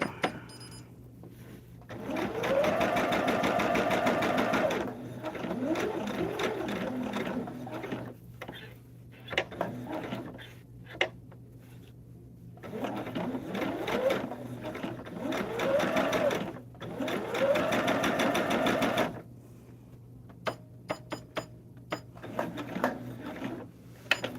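A sewing machine bastes a log cabin hexagon quilt table topper, stitching in several steady mechanical bursts separated by short pauses, close and fairly loud.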